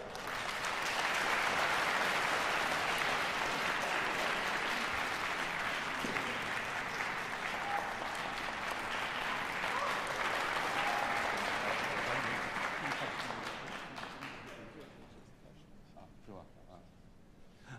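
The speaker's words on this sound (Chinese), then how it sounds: "下面让我们以热烈的掌声欢迎他上来为我们的大赛致辞" A large concert audience at a violin competition finals applauds warmly to welcome a music conservatory head to the stage, a dense sustained roar of clapping for about fourteen seconds before it thins out and fades.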